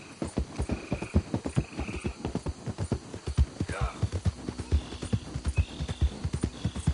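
Hooves clip-clop in a quick, steady rhythm in the video game Red Dead Redemption 2, a horse whinnies partway through, and a low hum runs underneath.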